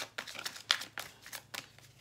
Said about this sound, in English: A little more shuffling on camera for those of you who like to see the shuffling.